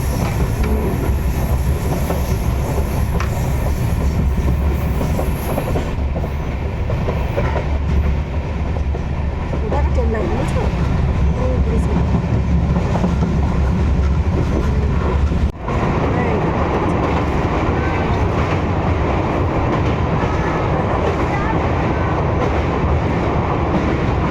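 A train rumbles past close by in Balurghat, loud and steady, with rolling wheel noise and rhythmic clatter of cars on the track.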